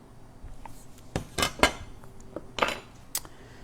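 Pork dropped into a pan of drippings while making char siu bao filling, a few clattering metallic scrapes and clinks of utensil against pan, close and moderately loud, with short pauses between.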